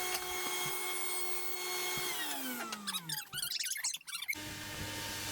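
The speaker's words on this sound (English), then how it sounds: "we're setting the dowel jig up on the side piece there and drilling this maple" A drill bores into hard maple through a dowel jig clamped on a cabinet side piece, whining steadily, then bogging and chattering as the bit bites, ending with a brief squeak.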